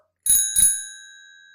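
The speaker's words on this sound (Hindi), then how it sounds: "यह है साइकिल की आवाज।" A bicycle bell rings twice in quick succession, close and bright, its metallic tone lingering and slowly fading after the second strike.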